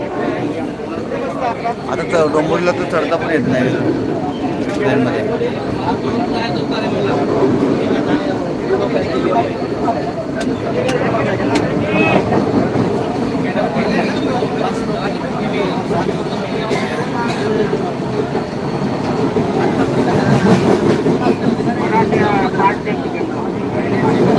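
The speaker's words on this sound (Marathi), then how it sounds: "ट्रेनमध्ये आहे मी ट्रेनमध्ये प्रवास चालला आहे" Steady interior rumble of a moving passenger train, running continuously at an even level for the whole stretch, with a crowded carriage's background murmur and voices talking over it.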